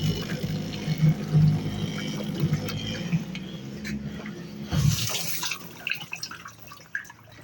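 A Bosch dishwasher, under repair for its heater and heat pump, running its wash cycle with water sloshing and spraying inside, a steady low churning hum with faint splashes and drips throughout.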